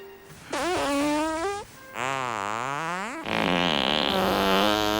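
A comedic fart sound effect from a parody movie, three drawn-out, pitch-bending blasts in a row, loud and close, each squeaky and tonal, with no talking.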